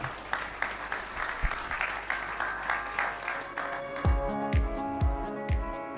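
Applause from an audience at an agricultural innovation trophy ceremony claps steadily, then gives way to a rhythmic musical jingle with punchy beats near the end.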